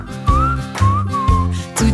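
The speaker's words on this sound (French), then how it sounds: "et je roule en sifflotant." A clear whistled tune in a French children's nursery song carries over a rhythmic musical backing, the melody bending smoothly between held notes.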